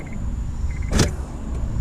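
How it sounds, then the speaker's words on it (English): A Honda DC5R's ignition is switched on inside the car, a short electrical click and whir rising briefly over a low idle-like background hum, with faint chime-like beeps before and after. "Oh yeah, ignition on."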